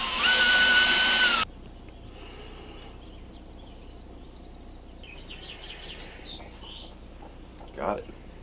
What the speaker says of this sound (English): now I gotta drill and tap 3 holes